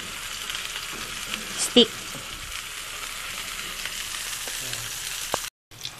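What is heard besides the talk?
king size hot dog frying in oil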